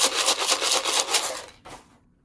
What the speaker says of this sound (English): I'm gonna shake these seeds.